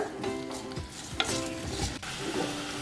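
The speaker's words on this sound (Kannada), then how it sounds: "ಇದು ಸಣ್ಣ ಉರಿನಲ್ಲಿ ಸ್ವಲ್ಪ ಇದನ್ನ ಮೆತ್ತಗಾಗುವವರೆಗೂ ಹುರ್ಕೋಣ" Tomatoes sizzle and fry in a pan over low heat while a utensil stirs them in steady scraping strokes, close and fairly loud, with no one talking.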